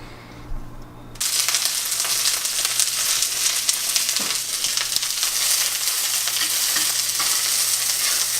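Jackfruit, peppers and onions sizzle in a hot cast iron pan: after a quiet second the frying bursts in loud and steady, with a constant hiss and crackling grease pops continuing to the end.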